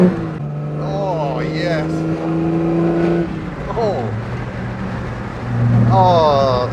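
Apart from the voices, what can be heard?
1952 Jaguar engine rev blip during gear change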